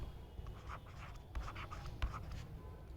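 Marker or chalk scrapes across a board during a class 10 maths lecture on quadratic equations, in short irregular strokes and taps. The sound is faint and close in a quiet room, and no one speaks.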